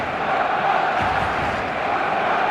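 Stadium crowd on match day in eFootball 2026, a steady broad roar of massed voices cheering and chanting, loud and continuous with no gaps.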